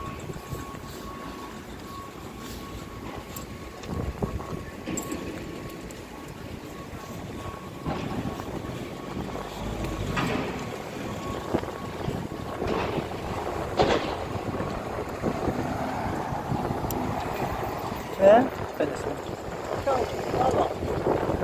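Wind buffets a microphone outdoors in a steady rushing roar that swells and gusts throughout, with people talking underneath.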